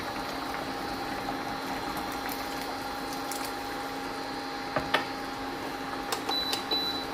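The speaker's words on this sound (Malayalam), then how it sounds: "ഇപ്പം പുളി ഒഴിച്ചുകൊണ്ട് ഒന്ന് നന്നായിട്ട് തിളയ്ക്കണം" Chicken rasam with tamarind added simmers in a pot, a soft steady bubbling hiss with a few sharper pops and clicks toward the end, close and alone without speech.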